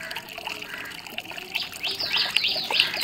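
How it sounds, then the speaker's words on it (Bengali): Water splashes and trickles over a person bathing with Lifebuoy soap, close and continuous, growing louder and busier in the last second and a half. "আজকে লাইট বই সাবান দিয়ে স্নান করছি"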